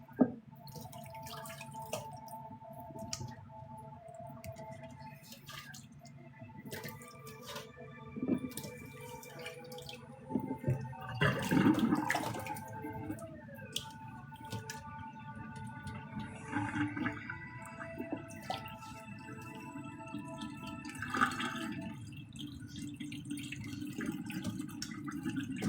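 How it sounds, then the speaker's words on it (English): Water runs and trickles faintly in a kitchen sink as vinegar water is rinsed off grapes, a steady low splash with scattered drips and clinks throughout. "Rinse this vinegar water off."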